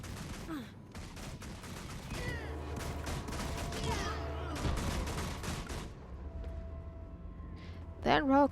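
Rapid pistol fire from a rogue dual-wielding two pistols in Guild Wars 2, bursts of shots crackling over game music and effects, with a brief louder spell flourish near the end.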